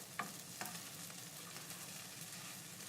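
Rice for pork fried rice broken apart and stir-fried in a pan, a steady sizzle with two sharp scraping clacks of a utensil near the start, no talking.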